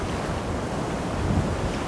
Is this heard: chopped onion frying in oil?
no